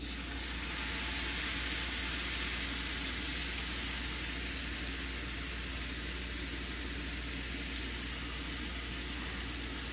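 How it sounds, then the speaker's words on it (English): Sous vide roast beef sears in a very hot pan with olive oil, giving a constant close, dense sizzle and hiss that runs evenly for the whole stretch with no talking. "So we're gonna sear all sides."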